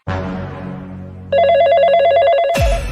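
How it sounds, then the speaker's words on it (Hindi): Phone ringing loudly nearby, a ringtone that starts with a descending tone, then switches to a rapid warbling electronic ring that repeats steadily until cut off abruptly. "जब भी मेरा मूड बनता है तभी तुम्हारा फोन बजने लगता है।"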